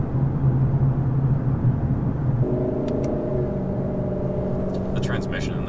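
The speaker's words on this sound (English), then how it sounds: "that's a weird amount of road noise in here" Road noise inside a Lexus LC 500 grand touring car on the move: a steady low tire-and-road rumble with a faint droning engine hum, while people talk over it.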